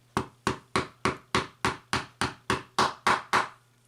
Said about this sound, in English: And then just hammer it down in there.